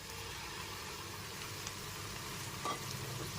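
Onion, ginger, garlic and green chilli paste sizzling in a pan with lightly fried chopped onions over a medium gas flame, a steady soft crackle with a faint brief scrape of stirring.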